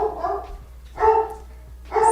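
A dog named Hilo barks at the door, three loud, close barks spaced about a second apart with quiet gaps between, no talk over them.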